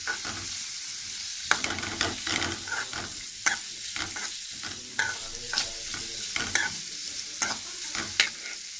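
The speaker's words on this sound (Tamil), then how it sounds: "சின்ன வெங்காயம் எப்பயுமே சின்ன வெங்காயம் நல்லா வதங்கிடணும்." Small onions (shallots) sauté in a pan for a yam (karunai kilangu) masiyal. A steady close sizzle runs beneath regular scraping stirs and sharp clacks of the spoon against the pan. No one speaks.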